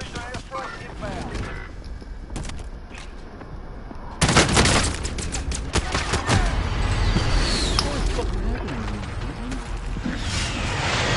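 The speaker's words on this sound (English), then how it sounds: "Friendly position airstrike inbound." Airstrike explosions and gunfire in Call of Duty: Black Ops Cold War, a dense barrage of booms and rattling shots that erupts suddenly partway through and stays loud, with a radio voice briefly heard.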